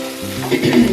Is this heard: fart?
no